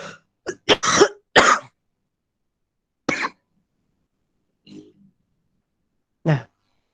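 A few short, sharp coughs or throat-clearing bursts, spaced irregularly with quiet gaps between them, fairly close.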